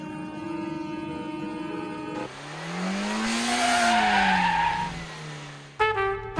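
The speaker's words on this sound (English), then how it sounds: "these wannabe stunt drivers who are practicing the art of driving sideways" Cars of would-be stunt drivers drift sideways, tires squealing in a long rising and falling screech over engine roar, then cut off abruptly before brief louder bursts.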